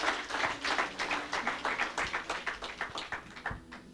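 A church congregation claps in praise, a dense run of steady hand claps at moderate volume with no talk over it.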